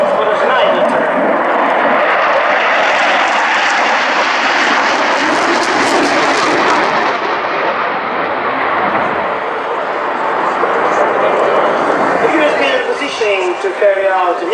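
Fixed-wing aircraft engine roaring loud and sustained through a Schneider turn at the Cosford airshow, swelling to a peak and easing off, with a commentator's voice over it.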